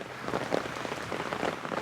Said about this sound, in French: Il pleut toujours, hein.